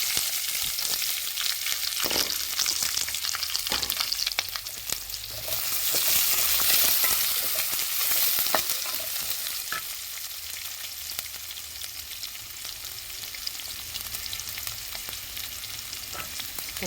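Onions frying in oil with cashews, cardamom, cloves and cinnamon for a fenugreek-leaf biryani, giving a loud continuous sizzle with occasional stirring scrapes close by and no speech.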